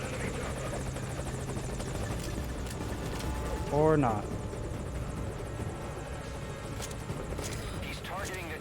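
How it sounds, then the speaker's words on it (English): A helicopter in Metal Gear Solid V: Ground Zeroes thrums steadily overhead, its rotor drone constant and fairly loud throughout, with someone briefly speaking over it. "God, the chopper."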